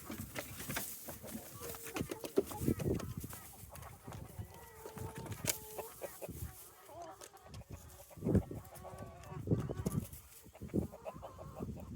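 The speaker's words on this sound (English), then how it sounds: "And the roosters are trying to let us know clearly" Chickens and roosters on a morning farm, with repeated clucking and crowing at varying distances, scattered patter and intermittent background voices.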